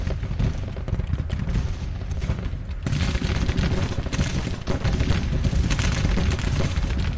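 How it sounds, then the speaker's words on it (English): Continuous rolling musket and artillery fire from a Civil War strategy game battle, dense booms and crackling volleys layered together at steady loudness throughout. "Turn that gunfire down a little bit."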